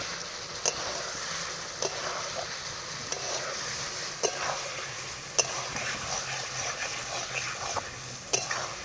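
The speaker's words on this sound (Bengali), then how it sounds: "কাশ্মীরি লঙ্কাটা দেওয়ার পরে আবারও একটু কষিয়ে নেব।" Potatoes sauté in a pan with Kashmiri chili powder, giving a soft, steady sizzle broken by sharp spatula scrapes and taps every second or so.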